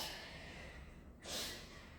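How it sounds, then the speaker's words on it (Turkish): A single deep breath is drawn in through the nose during a yogalates session, a faint, airy rush that swells toward the end of a quiet room. "Hadi bakalım burundan derin nefes al"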